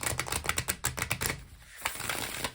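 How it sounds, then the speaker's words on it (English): Tarot cards being shuffled by hand, a quick run of crisp riffling clicks, then a brief pause and a few more taps and shuffles, close and fairly quiet. "while I'm shuffling your cards"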